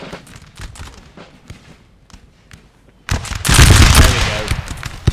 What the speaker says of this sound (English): Taking these volleys from the British pretty hard.